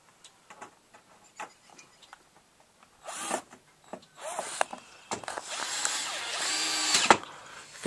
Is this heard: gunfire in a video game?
no